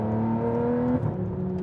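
An Aston Martin engine drones steadily, then its pitch drops sharply through a gear change from third to fourth and settles into a lower hum, fairly close and with no talk.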